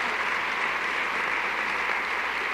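Dense, even applause fills a lecture hall, a continuous wash of many hands clapping at steady loudness with no voices.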